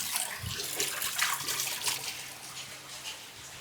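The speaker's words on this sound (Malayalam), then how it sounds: "ഇവിടെ തന്നെ നല്ലൊരു വെള്ളച്ചാട്ടം." A small decorative waterfall indoors in a newly built home, flowing in a soft continuous splash and trickle nearby, steady and fairly quiet throughout.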